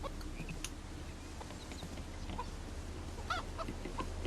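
Chickens clucking in the video game Miniinjas, scattered short clucks and squawks at moderate distance over faint background game sound.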